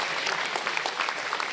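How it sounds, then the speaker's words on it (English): A brief, quiet burst of many hands clapping, a crowd applauding steadily for a second or two. "please give these people a round of applause"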